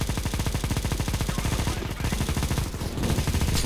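Sustained rapid automatic gunfire from a CS:GO match, a dense continuous stream of shots with only a brief dip in the middle before resuming at full loudness.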